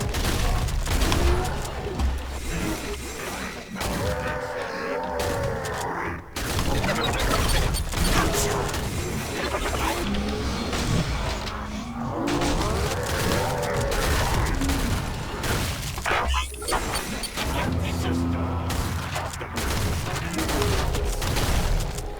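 Shotgun blasts from the Killing Floor 2 Support weapons, the Doomstick, Boomstick and HZ-12, ring out in rapid bursts against continuous game action, with mechanical reloading clatter between shots, loud and dense throughout.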